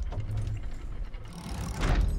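A gate in the Sea of Thieves game grinds open with a low mechanical rumble and scraping that builds toward a louder clank near the end, heard alone and fairly close.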